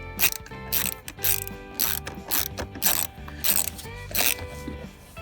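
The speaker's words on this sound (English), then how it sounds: "I'm gonna hold this in place as Matt finishes tightening that" A ratcheting wrench tightens a seat bolt inside a 2012 Toyota Sienna during a leather seat cover installation. It gives repeated short bursts of close clicking with small pauses between strokes and no talk.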